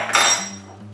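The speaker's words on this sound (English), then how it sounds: "what I do is I put two onto a little teaspoon, using another teaspoon, put it on top, give it a little wiggle" Two metal teaspoons pressed together to crush tablets while making raspberry wine, giving a short bright metallic clink and scrape, close and fairly quiet, followed by a low hum.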